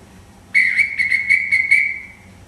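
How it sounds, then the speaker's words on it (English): A single sharp whistle is blown loudly in a large house on an estate to summon the household, one long steady blast with rapid trills fluttering through it, heard alone. "Everyone in this house answers to a whistle."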